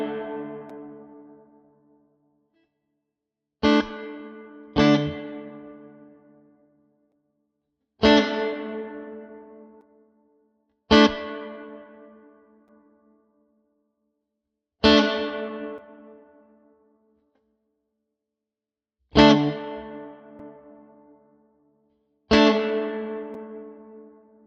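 Guitar played through a Fractal Axe FX modeler, switching between channels A and B: eight strummed chords, each ringing out and fading over several seconds with clear gaps of silence, closely recorded and even in level.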